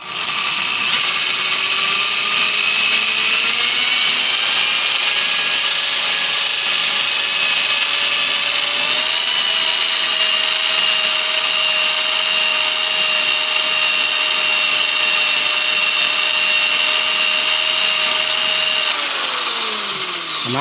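A handheld power drill grinds steadily inside a Ford E7 460 cylinder head during port work, a loud continuous whine that holds a near-constant pitch, shifting slightly in tone as the bit moves, with no talking over it.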